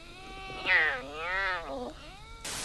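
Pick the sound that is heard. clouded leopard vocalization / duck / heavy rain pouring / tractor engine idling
clouded leopard vocalization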